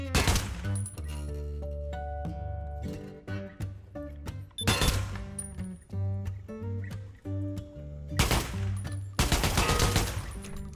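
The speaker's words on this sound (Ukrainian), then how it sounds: "А тут можна бігати і стріляти." Repeated bursts of gunfire in Counter-Strike 2 played in virtual reality, over layered game music, with several sharp volleys spaced through the clip; no one speaks.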